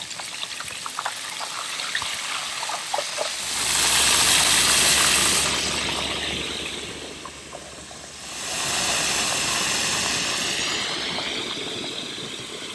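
Pismo clams dropped into hot oil and frying, with broad hissing sizzle surges that rise sharply, ease off, then swell again, heard close and steady with no talking.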